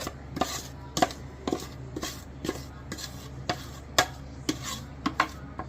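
Peanut butter chocolate fudge mixture is scraped and spooned from a pot into a pan, with a steady series of sharp clacks and scrapes of a utensil against cookware, about one or two per second, close up and without talk.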